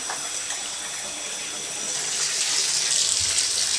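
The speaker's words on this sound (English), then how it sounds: "so it's coming out of the shower." Water runs from a bathtub shower head in a steady, close hiss that grows a little louder and fuller toward the end. No one speaks.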